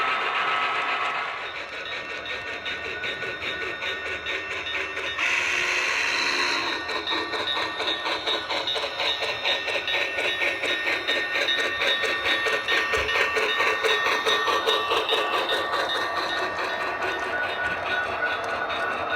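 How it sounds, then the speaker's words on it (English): A steady mechanical rumble and whir of an HO scale model train running continuously along a layout track, with a brief shift in tone partway through, no talking. "as you see the train leaving Emigrant Gap"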